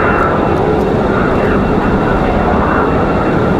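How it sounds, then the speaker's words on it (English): A United Boeing 737 MAX jet airliner moves at the airport on a windy day, a loud, constant broadband engine roar and rumble filling the whole stretch without change. "Finally, United, this 737 MAX on the move."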